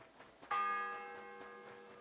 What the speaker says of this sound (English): The fourth bell.